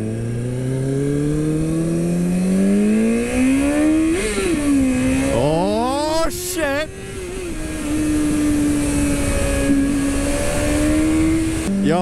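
A 2006 Kawasaki ZX6R sport bike engine revs and climbs through gears on a test ride, pitch rising and falling with a brief throttle blip midway, loud and continuous with wind noise.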